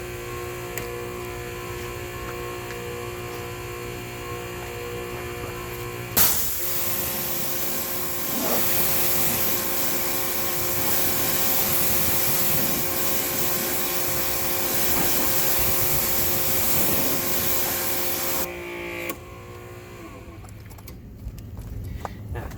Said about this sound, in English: now I'm going to rinse off